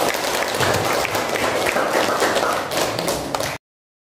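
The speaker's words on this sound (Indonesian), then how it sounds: "Kasih aplaus untuk" A classroom audience applauds with sustained, dense clapping that holds steady for about three and a half seconds, then cuts off abruptly to silence.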